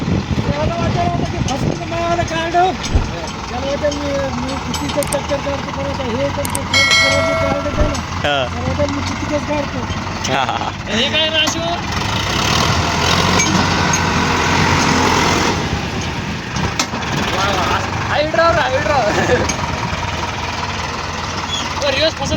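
A large tractor working on pond digging runs with a steady engine rumble and occasional revving, heard under almost continuous conversation between people close by.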